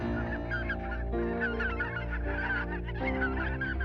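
Ducks and wild birds in a marsh keep up a dense, steady chorus of honking and quacking calls, moderately close and without talk.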